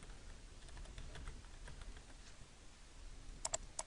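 Rapid typing on a computer keyboard in a quiet lecture room, soft continuous key clicks ending in a few louder, sharper keystrokes.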